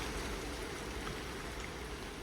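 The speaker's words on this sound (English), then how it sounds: "and raining quite a lot." Dense, steady rain pours down without letup, a broad continuous hiss with faint patter, no voices.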